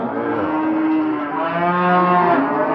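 A fat cow moos loudly and up close in one long, sustained low call with rich, wavering tones, heard over a steady hubbub at a busy cattle market in Barda.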